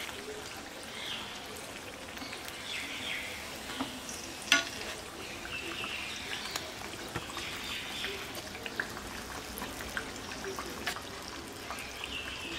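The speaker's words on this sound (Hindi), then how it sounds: "वड़े को हम दोनों तरफ से हल्का सुनहरे रंग का होने तक फ्राई करेंगे" Vada for ulta vada pav fry in oil until golden on both sides, a steady low bubbling sizzle with occasional faint pops and light clicks, moderately quiet throughout.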